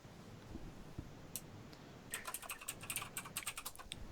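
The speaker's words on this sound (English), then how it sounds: "now we're hearing some clicking" Rapid clicks and typing on a computer keyboard, starting soft and sparse, then a dense run of crisp keystrokes in the second half, fairly close and fairly quiet, with no one talking.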